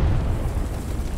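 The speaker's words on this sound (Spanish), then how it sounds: "Ese es un bombardeo, no es nuestro" A deep, rumbling bombardment explosion from the World War II shooter game Hell Let Loose rolls on as a loud, sustained low boom with no voices over it.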